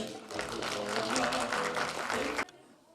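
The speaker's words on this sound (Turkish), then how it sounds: "Hacı Vakfı Karagöz için kocaman bir alkış" An audience at a municipal orphans' iftar gives a big round of applause, thick clapping with voices mixed in that cuts off abruptly after about two and a half seconds.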